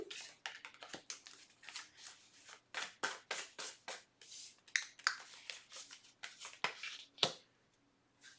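Cards are shuffled and riffled repeatedly, a run of quick papery bursts, close and fairly quiet, with no talking.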